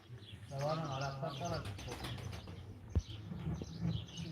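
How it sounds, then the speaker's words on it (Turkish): A bird calls in short chirps and coo-like notes, faint and somewhat distant, mixed in with people talking nearby. "Vallahi kuş çok rahatsız ha."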